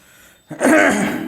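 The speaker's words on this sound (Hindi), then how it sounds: "थोड़ी सी मेरी तबीयत सही नहीं है इसलिए खांसी बहुत आ रही है" After a brief quiet, a single harsh, rasping throat sound bursts out, a close, loud cough from someone unwell that trails off.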